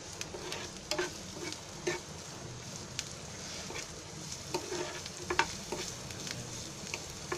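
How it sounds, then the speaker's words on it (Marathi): Ginger-garlic paste with onion fries on high heat in oil in a frying pan, a soft steady sizzle broken by light stirring and scraping clicks, with no one talking. "ही अद्रक लसूणची पेस्ट आहे आणि गॅस फास्ट करते आणि आधी पहिला भाजून घेते"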